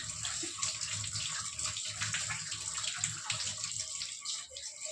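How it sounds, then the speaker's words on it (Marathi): Water splashes and runs steadily as a clay kalash pot is washed clean, close and continuous with small sloshes and gurgles. "कलश आणलेला आहे मातीचा तर आता याला धुवून घेऊया स्वच्छ"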